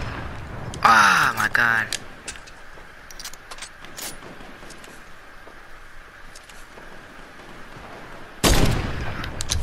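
A heavy sniper rifle fired in the video game Fortnite: one loud, sharp blast near the start, with a second heavy report later, and a player speaking briefly between them.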